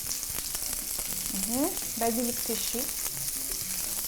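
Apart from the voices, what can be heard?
onion frying in a pan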